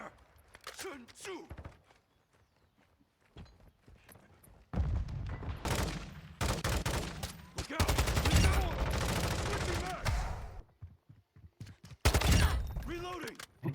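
Bursts of gunfire from Call of Duty Modern Warfare 2 in hardcore mode: quiet opening, then loud rapid volleys and single sharp shots in clusters with brief gaps, players talking between them.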